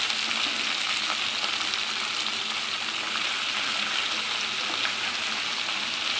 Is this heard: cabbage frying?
yes